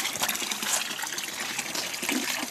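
Iron-rich, rust-tinged water trickles and splashes steadily into a trough outdoors, a continuous close bubbling flow with no pauses.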